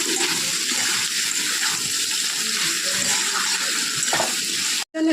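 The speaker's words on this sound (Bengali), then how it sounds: "এর মধ্যে কচুর লতিগুলো দিয়ে দেবো, দিয়ে ভালো করে নাড়াচাড়া করবো" Taro stolons are stirred into a spice paste frying in a pan, giving a steady close sizzle with soft scraping stirs throughout and a brief cut near the end, with no voices.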